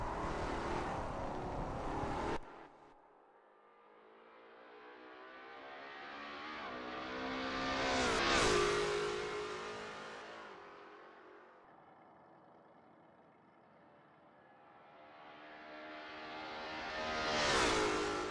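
Lola T70 MkII Spyder race cars in a racing video game set at Imola in 1972, engines roaring loudly as cars sweep past one after another, each rising to a peak and fading, with no talking.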